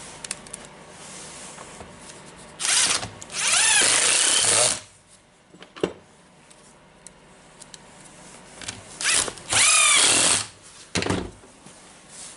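A power driver whirs in short bursts while backing out screws on a Bosch GBH 5 DCE SDS-max hammer drill under repair, with several loud, close runs separated by quiet pauses and small clicks of handling.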